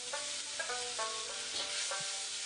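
Minced ginger sizzles in a little hot oil with salt, a steady bright hiss running throughout with faint scraping stir strokes, close and alone with no talking.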